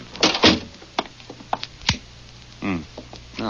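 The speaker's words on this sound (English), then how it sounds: "Well, close the door." Door pushed shut in an old-time radio crime drama, a couple of close wooden thuds and knocks early on, followed by a sharp clunk, then voices speaking.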